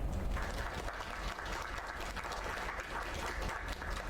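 A crowd applauds in a video game scene, giving a dense, steady clatter of clapping that continues at an even level throughout, with no speech.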